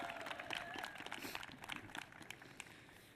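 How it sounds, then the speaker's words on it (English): Audience applause at the US Capitol Christmas tree lighting ceremony, a steady patter of clapping from a crowd that holds through the whole stretch and thins slightly toward the end. "How about a round of applause for Rose Burke from Kenai?"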